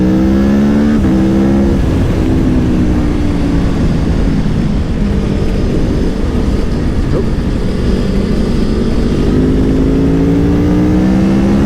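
BMW S1000 RR motorcycle engine roars at high revs on Isle of Man roads, loud and close, pitch sweeping up through the gears with a drop for a corner before climbing again.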